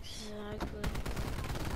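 Automatic gunfire in Call of Duty: Black Ops 4, a fast, loud rattling burst that starts partway in and runs to the end, following a short stretch of game sound.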